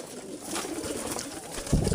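Caged pigeons, a master pair kept at home, give soft low cooing close by, with a louder coo swelling at the end over faint room noise.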